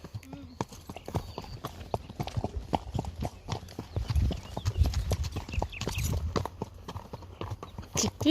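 A horse's hooves clip-clop steadily at a riding championship venue, crisp close hoofbeats in an even walking rhythm, with people talking now and then.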